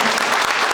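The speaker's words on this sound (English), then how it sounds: "let's give them another round of applause" Audience applause at a school wellness talk for parents, a dense, steady wash of many hands clapping close by for under a second with no voices over it.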